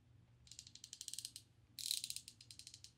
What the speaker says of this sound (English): Their ratcheting mechanism